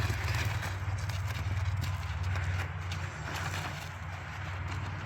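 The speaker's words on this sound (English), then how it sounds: "Uh-oh, Yoko's leaving." Hooves of a horse clop on the ground as it walks away from a pair of horses grooming each other, a soft irregular series of steps against a steady low background hum.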